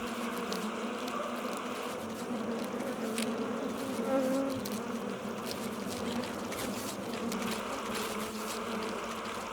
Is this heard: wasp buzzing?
yes